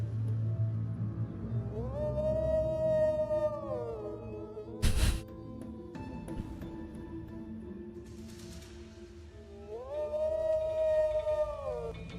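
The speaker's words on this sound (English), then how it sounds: "I'll howl to the moon." A drawn-out rising and falling wolf-like howl from the player character baying at the moon in Fallout 76, sung twice with a sharp thump between, carried over a low ambient music bed.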